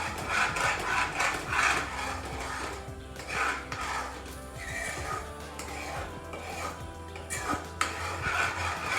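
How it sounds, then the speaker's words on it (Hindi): Creamy white pasta sauce made with fresh cream and cheese is stirred quickly and continuously in a pan, giving steady scraping and rubbing of a utensil against the pan that stays close and fairly quiet throughout. "अब इसको जल्दी जल्दी से आपने हिलाते रहना"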